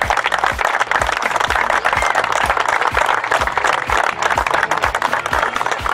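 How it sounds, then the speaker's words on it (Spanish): A crowd at a public event gives a loud round of applause, a thick continuous clatter of many hands alongside a steady pulsing low thump beneath it, close and sustained throughout. "quiero que nos brindemos entre todos un fuerte aplauso"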